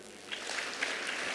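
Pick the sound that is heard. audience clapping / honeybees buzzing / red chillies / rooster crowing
audience clapping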